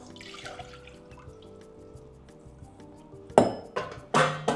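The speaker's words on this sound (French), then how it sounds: "On remet le sirop dans la casserole." Raspberry syrup splashes and pours back into a metal saucepan, with a few clinks and loud bursts near the end after a quieter stretch of low kitchen hum.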